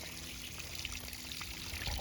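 Water trickles and pours steadily off the last small shelf of a DIY linerless backyard waterfall fed by a Harbor Freight pump and garden hose, a constant close splashing wash with no pause.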